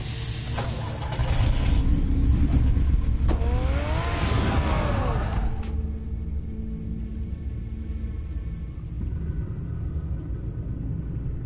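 In the Batman Telltale video game, a car engine revs and rumbles loudly through a steady low drone, with a brief rising whine in the middle before the sound dulls to a muffled rumble.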